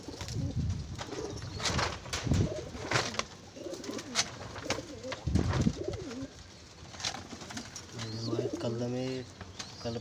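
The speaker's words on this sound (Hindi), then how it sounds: "वह फर्स्ट क्वालिटी के कबूतर हैं" Domestic pigeons kept by a breeder coo repeatedly in soft, throaty bursts, with a clearer run of cooing near the end, while people talk intermittently nearby.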